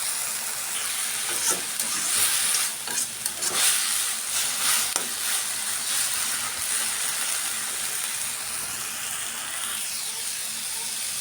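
Leafy greens with a green chili sizzling and being stirred in a pan, a steady loud hiss with scraping stir strokes early on, no talking.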